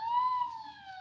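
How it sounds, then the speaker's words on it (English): A police car siren wails a short way off, holding a steady electronic tone with a slight downward slide, fairly faint and heard alone. "There's a police car not far off."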